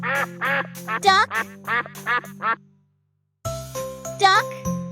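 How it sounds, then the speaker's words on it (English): A cartoonish duck voice quacks in a rapid run of about six calls, then pauses before a second quack sounds over tinkling chimes and jingles, set in a toddler farm-animal learning song. "Duck."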